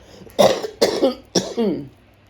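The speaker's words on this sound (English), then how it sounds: "excuse me while I cough" Three separate coughs, close and fairly loud, spaced evenly with brief pauses between them.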